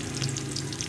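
Red chili added to a turnip dish (shalgam sabzi) frying in a pan, giving a steady close sizzle with soft crackle throughout, no voices.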